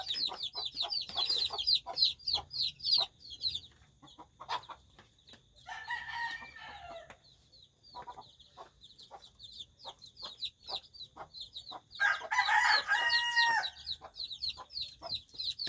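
Chicks and a hen cluck noisily around a farmyard at close range, with repeated high peeping chirps, bursts of loud clucking and a rooster crowing now and then, continuing without pause.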